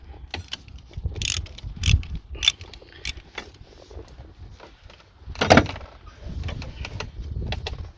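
An 8 mm ratchet works screws loose on a Mercedes C220 in scattered bursts of quick clicks and clacks, close and fairly quiet, with pauses between.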